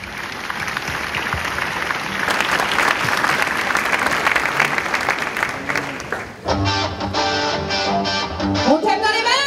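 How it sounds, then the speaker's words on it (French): Audience applause at a municipal New Year's wishes ceremony in Le Portel, following a cabaret revue excerpt: dense, steady clapping fills the first six seconds before music with a melodic voice takes over. "Sous vos applaudissements, mesdames et messieurs."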